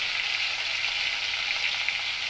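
Hilsa fish head frying lightly in a pan gives a steady, dense sizzle that holds even and close throughout, with no voices.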